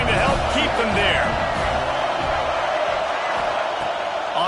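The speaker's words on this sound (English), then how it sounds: "this crowd trying to help keep them there" A football stadium crowd roars steadily at a loud, sustained level while a play-by-play commentator talks over it.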